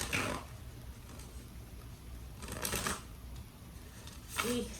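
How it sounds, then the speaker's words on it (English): Quick bursts of tarot cards being riffled and shuffled, a few short rustling flurries close by against a quiet background. "just get a couple of shuffles here before we start."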